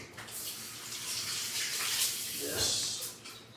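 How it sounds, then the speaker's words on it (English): Tap water runs over a handful of pre-packaged sugar snap peas in a sink, a steady close hiss with a brief splashier swell near the end; no one speaks over it. "Just gonna give them a quick wash."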